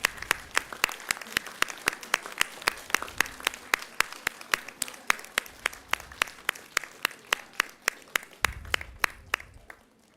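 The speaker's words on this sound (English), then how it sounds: "Give them a round of applause." Graduation-ceremony applause from a standing audience at Asia Pacific University, sustained steady clapping of many hands with a few sharper individual claps standing out, moderately loud throughout.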